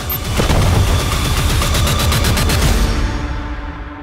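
Rapid bursts of gunfire and booming blasts from a 2024 Russian film trailer, a dense rattling volley over a dramatic music bed that fades out toward the end.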